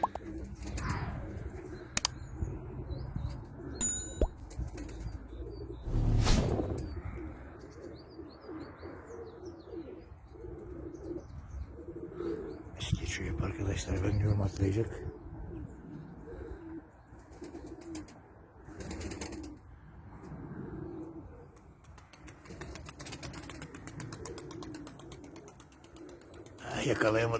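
Pigeons coo near a loft where Turkish play pigeons usually land, soft repeated calls with scattered chirps and a few mechanical knocks, running under someone talking close by throughout.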